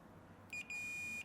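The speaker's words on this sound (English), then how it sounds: "I get a beep." A multimeter set to continuity test gives a high electronic beep when its probes touch connected contacts on a micro:bit button circuit: a short blip, then a sustained tone, clear against a quiet background.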